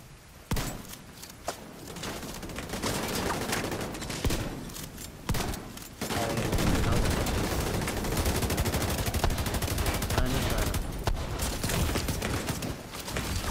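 Rapid, loud gunfire from the video game The Division 2, shotgun blasts mixed with dense bursts of automatic fire in a sustained fusillade with brief pauses, no talking.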